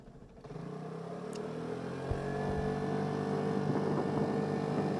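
A 2007 Vespa LX 150 scooter cruising at speed gives a steady, close engine drone with rising pitch as it accelerates, plus constant wind and road rush and no speech.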